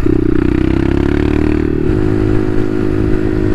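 A Bashan Motomax 250 street-legal dirt bike rides at night on wet roads, its single-cylinder engine droning loud and close at a steady pace, the pitch dropping partway through.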